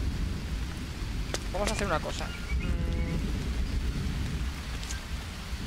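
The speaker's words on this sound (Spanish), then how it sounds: "Se nos pone a llover." Steady rain with low rumbling thunder falls across the jungle survival game Green Hell, a constant broadband wash throughout while someone talks over it briefly near the start.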